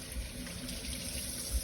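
Tap water runs steadily while a hand is rinsed under it in a kitchen, a soft, continuous splashing trickle at low volume with faint thumps.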